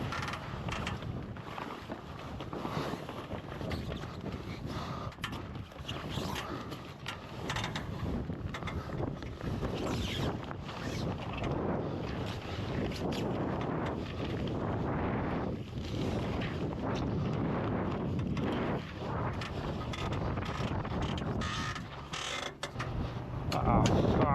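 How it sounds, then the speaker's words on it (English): A dropped sail flaps and rattles on the deck of a sailboat in strong wind, a continuous rough flutter mixed with creaks and gusts of wind noise on the microphone. "Obviously it starts flying around on deck and I need to secure it"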